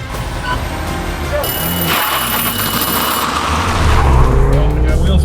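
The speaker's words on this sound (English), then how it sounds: "Well, I got wheel spin." A Mini Cooper spins its tires at a drag race launch, with a loud roaring engine and tire noise building steadily and close by.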